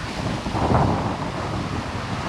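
Steady wind rushes across Bang Saen beach in Chonburi, Thailand, in the morning, a broad blustery roar with a brief swell near the start, no voices.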